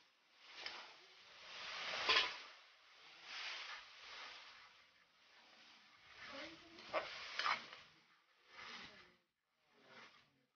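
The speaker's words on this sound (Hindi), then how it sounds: "प्याज का पेस्ट डालेंगे, इसमें हम डालेंगे टमाटर का पेस्ट" Tomato paste sizzles in a pan of onion paste for a cauliflower kofta curry, soft frying hiss rising and falling as it is stirred.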